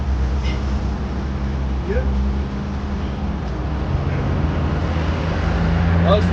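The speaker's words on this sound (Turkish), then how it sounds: "Yoğun trafik, korna sesleri, kalabalık sokaklar, her şey çok hızlı ve çok karmaşık." Heavy street traffic in Cairo rolls past as a steady, loud wash of engine and road rumble, with a few faint, brief tonal blips over the continuous roar.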